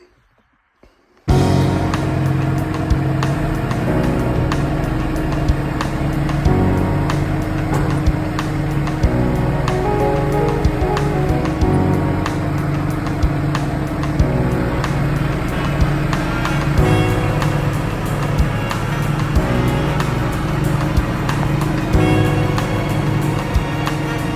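A Massey Ferguson 6S tractor engine starts after a moment of silence and then runs steadily and loudly close by, a constant deep idle with no talk over it.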